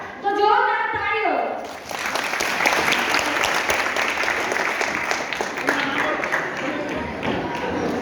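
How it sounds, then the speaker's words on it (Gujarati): Audience applauding a children's play at a Jain school event in Anand, sustained dense clapping that swells after a short spoken introduction over faint music, steady and close throughout. "તો જોરદાર તાળીઓ."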